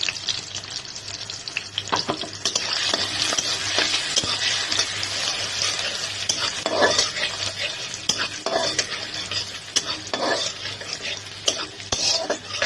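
Chicken and mixed vegetables, cooked raw without boiling, are stir-fried Chinese-style in a pan: a continuous sizzle under brisk, repeated scraping and clattering of a metal spoon against the pan.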